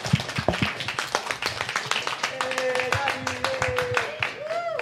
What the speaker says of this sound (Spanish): Un aplauso para nuestra invitada.